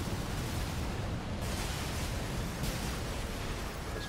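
Missile explosions in Armored Core 6, a dense continuous roar of blasts and rumbling that stays loud and steady, with a few brighter bursts.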